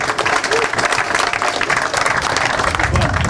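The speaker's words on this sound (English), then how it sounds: "round of applause for our champion, Mark Cribbs." Steady crowd applause at a BREAM fishing tournament grand final presentation fills the whole stretch, a dense wash of many hands clapping close by, with some voices mixed in.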